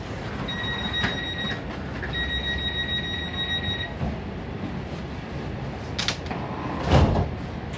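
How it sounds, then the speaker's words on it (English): Metro train doors close at Expo/Bundy station: a two-tone electronic chime sounds twice in a row, followed by a muffled thud and clatter of the doors shutting amid platform hum. "The doors are closing."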